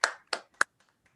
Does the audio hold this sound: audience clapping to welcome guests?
yes